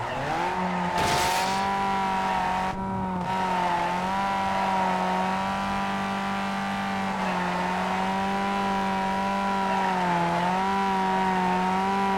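A car drifting in the video game NFS Carbon, its engine held at high revs in a steady droning whine with a tire squeal early on, loud and close with no talk.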